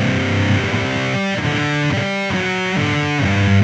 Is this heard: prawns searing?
no